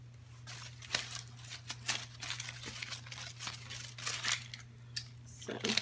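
Scissors snip through wreath material in a series of close crisp cuts with rustling and crinkling in between, over a steady low hum.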